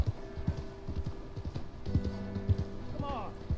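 Horse hooves clip-clop steadily in Red Dead Redemption 2, a regular walking rhythm of close, distinct thuds with someone talking over them in Spanish.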